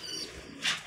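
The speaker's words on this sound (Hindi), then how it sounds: "बड़े गारंटियों वाले कबूतर हैं दोस्तों।" A pigeon gives a short, soft coo close by, a single brief call over a quiet background with faint rustling.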